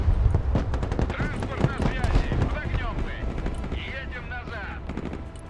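Rapid bursts of gunfire in the Broken Arrow strategy game hit a position held by guards, with clustered shots and heavier impacts piling up under someone talking over the fighting.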